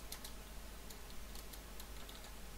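A computer keyboard clatters with quick, light, irregular keystrokes during play of the online game Rift, faint and close under a steady background hum.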